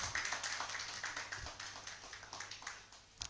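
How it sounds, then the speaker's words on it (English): Applause from an audience welcoming two guests, Madam Frida and Madam Cynthia, at a community development project launch: steady, dense clapping held for several seconds, moderately loud and fairly close, with no one talking over it. "Let's give them a round of applause."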